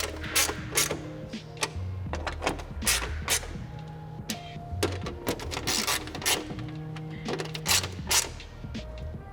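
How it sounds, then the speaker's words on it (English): Ratchet tightening 10mm bolts during an oil change on a 2022 GR86/BRZ, a steady run of sharp, close clicks in quick bursts with short pauses, repeated throughout alongside metallic handling clatter. "we'll tighten these 10mm bolts down"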